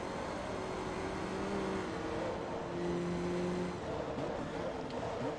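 A 600-horsepower muscle car engine in Forza Motorsport 2 drones and revs steadily, its pitch climbing and falling slightly, with a constant roar of road and motor noise throughout.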